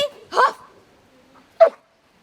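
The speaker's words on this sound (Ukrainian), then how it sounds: "Його улюблениця собака на кличку Юта." Two short, sharp dog barks, close and fairly loud, separated by about a second of near silence.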